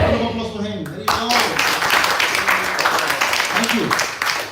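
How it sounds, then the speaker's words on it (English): At a Sunday devotional discussion gathering, an audience breaks into applause after a sung chant fades, a steady, dense clatter of many hands with voices mingled in. "Round of applause for him."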